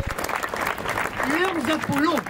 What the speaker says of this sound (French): Applaudissons les Vénus et applaudissons aussi